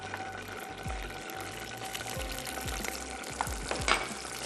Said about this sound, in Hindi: सबसे पहले तो हमने इसमें ऐड कर दिया गार्लिक, हल्का सा इसको सौते करते हैं